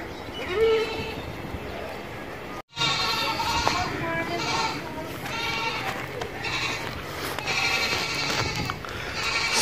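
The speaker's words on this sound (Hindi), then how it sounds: "बिल्कुल एक्टिव, खाती पीती बकरी है।" Goats bleat repeatedly at a crowded livestock market, with several animals calling over a steady background of crowd noise and other farm animals, and a brief dropout early on.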